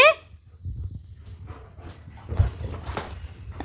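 A puppy gives a short yelp at the start, followed by soft whimpers and faint scuffling, fairly close and quiet overall.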